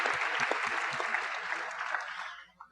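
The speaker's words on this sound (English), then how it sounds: "Big round of applause." Audience applause fills the room, a moderate steady patter with a few louder claps in the first half, then thins and fades out by the end.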